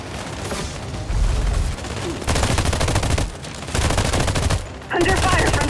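Sustained bursts of automatic gunfire in the sci-fi shooter The Expanse: Osiris Reborn, four loud volleys separated by brief lulls, with a firefight's crackle throughout.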